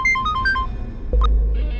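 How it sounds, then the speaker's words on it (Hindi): A phone rings in a Hindi TV drama scene: a short electronic melody of bright, rising notes plays close by, then cuts off under a low rumbling background. "अब कौन फोन कर रहा है?"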